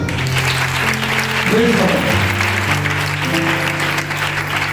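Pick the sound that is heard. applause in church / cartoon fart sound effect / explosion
applause in church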